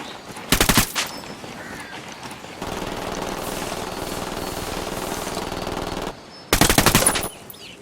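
Gunfire in the video game Ghost Recon Wildlands: two short, loud bursts of rapid automatic fire near the start and end, with a long, dense stretch of continuous shooting and impacts between them, and no talking.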